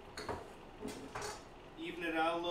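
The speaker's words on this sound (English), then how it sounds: "So I'm going to go ahead and flip that around." A spatula turns French onion grilled cheese on a grill over direct flame, with a few close metallic scrapes and clinks, then a soft steady sizzle building toward the end.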